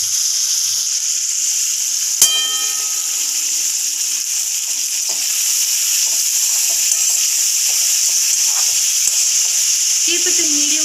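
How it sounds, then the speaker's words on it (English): Washed bitter gourd going into hot oil in a pan for a crispy fry, with a steady, close sizzle running throughout and a single sharp clink of utensil on pan near the start. "I have washed the bitter gourd like this, and I am going to directly add this to the oil."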